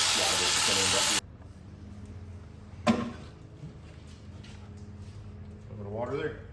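A loud, close burst of water spraying hisses for about a second and then cuts off, followed by quiet shop ambience, a single knock and someone speaking.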